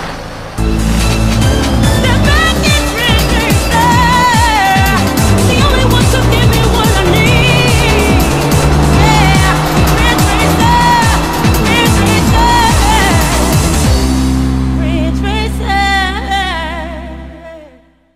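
The opening sequence of a PlayStation racing video game plays loud and continuous: race car engines roar and whine over a dense, layered electronic music score, then fade out at the end.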